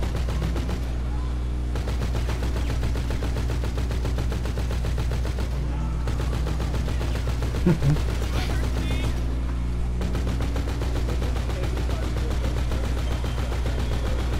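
Rapid automatic gunfire in the video game GTA V Online, a continuous loud rattle of shots with brief pauses, over a steady low game rumble.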